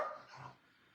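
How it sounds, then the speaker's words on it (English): Dog indoors letting out a single short bark or yip, brief and fairly faint against a quiet room. "I know the dogs next door are barking, but I don't need to hear it from you"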